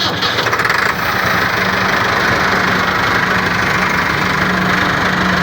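A Buraq 4100 tractor with an air-cooled turbo engine cranks and catches, then settles into a loud, steady, heavy idle that runs close by without interruption.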